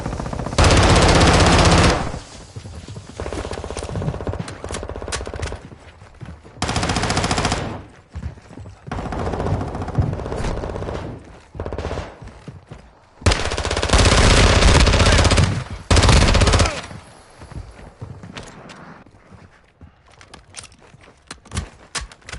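Long bursts of rapid automatic gunfire crackle loudly in the DMZ video game, separated by quieter stretches of scattered shots and movement, with several heavy volleys spread across the scene. No one speaks.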